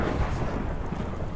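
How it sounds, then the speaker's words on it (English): Thunder rumbles steadily through a lightning storm in the Minecraft-style survival game Hungercraft on a jungle map, a loud, dense, continuous roar with no clear breaks and no voices. "we hear lightning everywhere"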